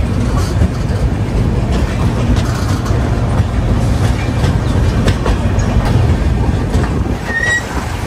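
The 12261 Mumbai CSMT–Howrah AC Duronto Express, running late, rolls into a yard near Santragachi, heard from on board. A loud, steady rumble carries continuous wheel clatter, with a faint brief squeal near the end.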